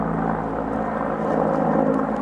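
A helicopter drones steadily overhead, its engine a continuous low rumble that neither rises nor fades.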